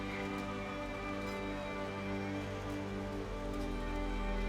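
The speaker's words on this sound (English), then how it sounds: "It's starting to rain now" Rain falls outdoors during a gentle yoga session, a soft, even patter spread across the scene, with a low steady hum underneath and no talking.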